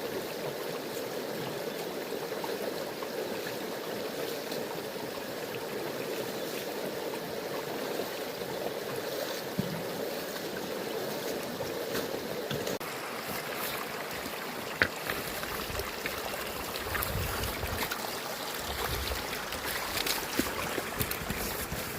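Creek water rushes steadily and close by while someone wades upstream through it in waders, a continuous broadband wash with occasional splashy surges, growing rougher and more churned in the second half.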